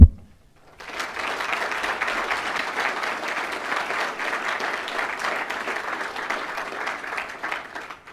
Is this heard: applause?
yes